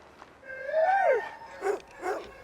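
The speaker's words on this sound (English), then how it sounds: "Up early to feed the kennel of sled dogs" Sled dogs in a kennel give a few close barks and yips, one drawn-out whining bark followed by two shorter ones, with little else around.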